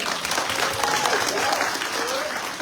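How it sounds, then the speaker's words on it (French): Audience applauding at a political meeting about the Comoros, sustained dense clapping throughout with crowd murmur mixed in. "Je vous invite à l'applaudir."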